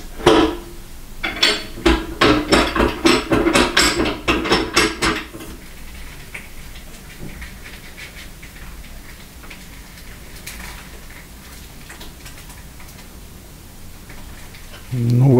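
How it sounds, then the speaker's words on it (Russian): Soft potato sausage mince pushed through a sausage syringe while making homemade German potato sausage: rapid rhythmic clicking and knocking for about five seconds, then quieter handling noises, close up, with no talk. "Я буду набивать через шприц."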